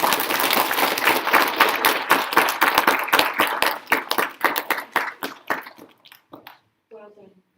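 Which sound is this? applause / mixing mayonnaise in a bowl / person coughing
applause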